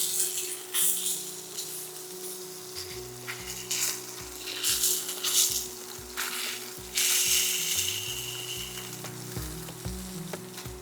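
Pollock fillets fry steadily in a hot pan, a continuous close sizzle with brief crackling flare-ups, under a low electrical hum, no voices.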